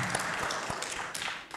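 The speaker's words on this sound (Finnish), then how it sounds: "Eiköhän anneta pienet aplodit tälle Tiinalle." A church congregation at a Pentecostal worship service gives a short burst of scattered, fairly faint applause with distinct individual claps.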